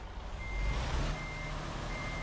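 A truck in American Truck Simulator, a Freightliner Cascadia, backing up with its reversing alarm, a thin steady high beep repeating at an even pace over a low, quiet engine rumble.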